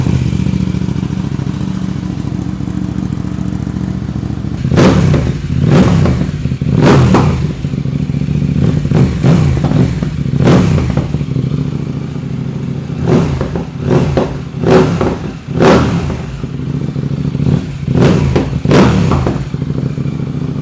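A 2026 KTM 990 RC R motorcycle runs with its silencer removed, a deep throaty idle broken by a series of sharp revs in short bursts, close and loud.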